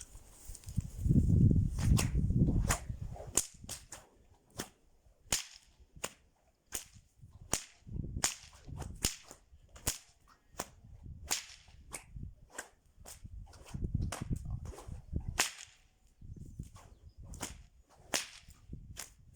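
A large, heavy nylon whip cracks repeatedly, its sharp, loud snaps arriving in irregular bursts, with rustling swings and movement between the cracks outdoors.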